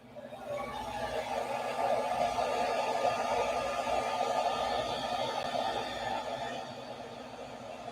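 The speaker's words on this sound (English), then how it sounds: "Get out the heat gun and tighten up the skin." A heat gun blows hot air to tighten a skin, giving a steady, airy whoosh that rises at the start and holds at a constant level with no talking.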